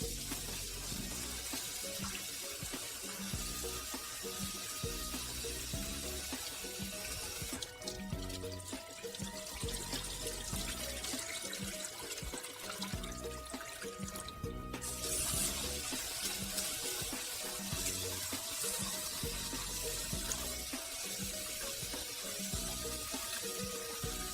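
Running tap water while rice is rinsed, a steady close splashing and gurgling flow that continues the whole time without speech.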